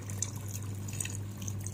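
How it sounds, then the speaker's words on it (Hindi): Water poured into chicken korma in a pan, a soft steady splashing and trickle with faint drips, heard close and without talk. "तो यहाँ पर अब इसमें डाल देंगे हम पानी,"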